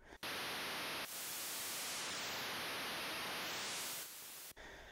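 Loud hiss of white noise from a YM2149F sound chip module on a breadboard, switching on abruptly, holding steady for several seconds with a brief tonal sweep above, then cutting off.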